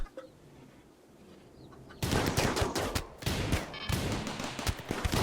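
Turrets firing guns in RimWorld, a quiet lull suddenly giving way to loud sustained bursts of automatic fire with scattered louder impacts, continuing to the end.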